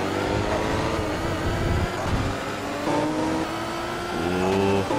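Toyota Supra race cars in Forza Motorsport 2 roar steadily at high revs, with engine pitch rising and falling through the gears and other cars close by, loud and continuous.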